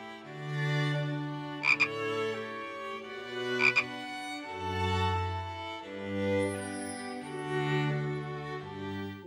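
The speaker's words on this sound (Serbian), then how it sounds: "Zelena žaba." A green frog croaking in a series of resonant, rhythmic calls with a couple of sharper clicks, heard alone and fairly close.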